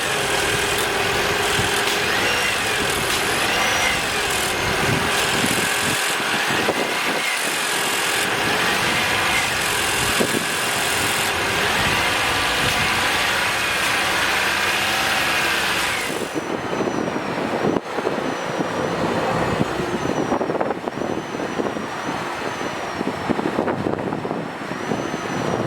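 2020 Toyota RAV4 Hybrid with its 2.5-liter four-cylinder engine running, a continuous steady hum with a change in character partway through, no talking.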